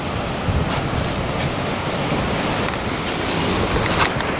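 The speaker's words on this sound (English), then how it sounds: "It's gorgeous, those waves out there." Ocean waves wash in a steady broadband roar mixed with gusting wind noise on the microphone, continuous and fairly loud with no talking.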